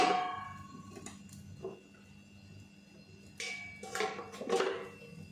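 A metal lid is set down over a dosa cooking on a pan, giving a few faint, short clanks with a light metallic ring in a quiet kitchen, with no talking.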